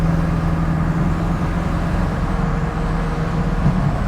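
A 1968 Mustang GT with a 390 big-block V8 drones steadily while driving, a low, even engine hum with road noise, loud and continuous from inside the car.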